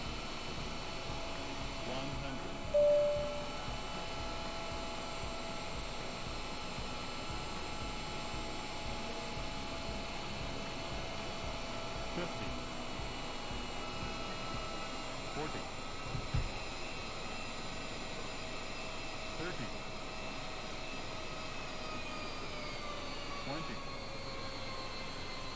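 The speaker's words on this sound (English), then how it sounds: "Let's look at the Dreamliner go." Boeing Dreamliner jet engines in Microsoft Flight Simulator give a steady, loud, broadband roar with high whine tones, droning continuously without a break.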